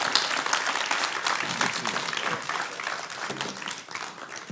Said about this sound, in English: How about a round of applause again for Congressman Colin Allred?